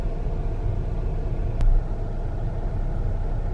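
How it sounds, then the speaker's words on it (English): Steady low rumble of car traffic in Atlanta, a dense continuous engine drone close by, with a brief louder swell and a sharp click midway. "It's called traffic."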